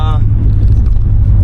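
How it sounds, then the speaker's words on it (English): Wind buffets the microphone inside a moving Mercedes as it drives, a heavy, steady low rumble that fills the whole stretch, with faint muffled voice sounds underneath. "I apologize for all the wind noise."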